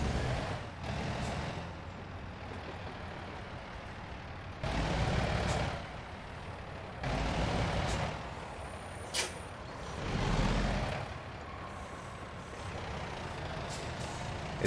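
Heavy truck in American Truck Simulator backing a trailer into line at a store, with repeated loud air-brake hisses and bursts of engine rumble coming every few seconds over a steady mechanical drone.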